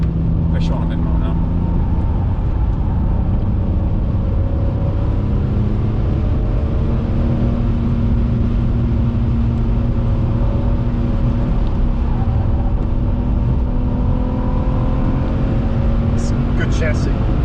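A BMW 330ci Clubsport is pushed harder on the road, its engine droning and rising in pitch inside the cabin with steady road rumble, while occupants talk over it.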